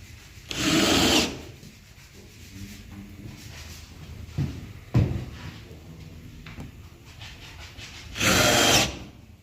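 A power drill driving screws into a wooden toy cabinet with a cushioned bench, two loud whirring bursts at the start and end, with quieter wood knocks and handling clatter between them.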